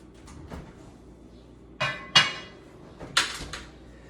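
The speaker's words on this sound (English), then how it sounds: "Now I'm going to put it in this hot oven on top of the griddle." A soufflé dish set into a hot oven on top of a griddle gives a few sharp clinks and clunks of ceramic against metal, close and moderately loud, with quiet gaps between.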